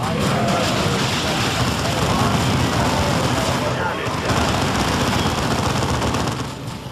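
Gunfire rattles continuously in Warhammer 40,000: Dawn of War II, a dense, loud barrage of rapid shots that runs almost the whole time and fades at the end, with voices speaking over the battle.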